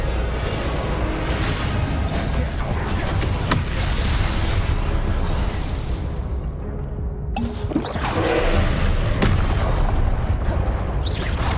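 Booming spell blasts and whooshing magical bursts from the Confringo curse in the video game Hogwarts Legacy, loud and continuous with a dense rumbling bed, a brief lull near the middle, then renewed impacts.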